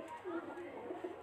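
Pigeon cooing from a Faisalabad pigeon loft, soft low repeated coos over a steady noisy background, close by and fairly faint.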